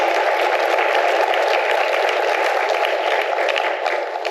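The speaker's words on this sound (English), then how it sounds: "Let's give him a huge round of applause." A live audience at a conference event in a Waikiki hotel ballroom bursts into loud, steady applause, a dense wash of clapping that holds for several seconds and eases slightly at the end.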